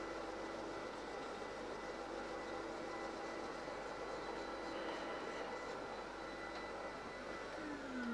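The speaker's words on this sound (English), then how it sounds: "And with the last grit, I sand with the grain." Steady, even sanding hiss from a wooden bowl spinning on a mini chuck lathe, sanded with the grain at the last grit, a continuous broadband whir with a faint tonal hum running unbroken throughout.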